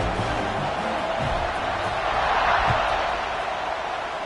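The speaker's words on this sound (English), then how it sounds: "this crowd is buzzing after that last score" A football stadium crowd at an Ohio State Buckeyes game keeps up a steady, loud broadband buzz throughout, swelling slightly in the middle, with no clear individual voices standing out.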